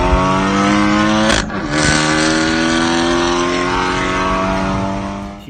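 A tuned Kia Forte making about 250 to 270 wheel horsepower accelerates hard, its engine note loud and close and climbing steadily, with a brief shift-like break before the rising drone resumes.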